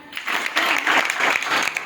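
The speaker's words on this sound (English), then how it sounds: "Give her a clap." Pupils at a Friday science assembly in a school clap together, a bright burst of applause that swells and holds steady for a couple of seconds.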